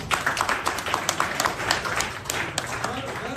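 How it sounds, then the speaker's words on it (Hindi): Scattered clapping from a small group of children, uneven and brief, with talking voices running over it. "इस बच्चे ने ताली बजाओ,"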